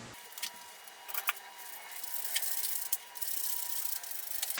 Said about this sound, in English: I'll further tighten this bolt as soon as I finish screwing the back of the stock on.